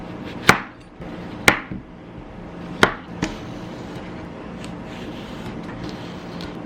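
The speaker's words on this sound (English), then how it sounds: "I'm going to cut a few slices of cucumber." A knife cuts slices from a cucumber on a cutting board, giving three crisp, evenly spaced chops about a second apart and a softer fourth tap, close by over faint room noise.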